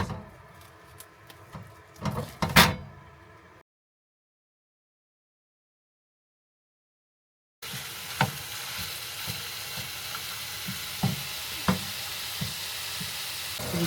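Meat browning in a pan for enchiladas, a continuous sizzle with utensil knocks and stirring, broken by a few seconds of silence before the frying resumes at a similar level.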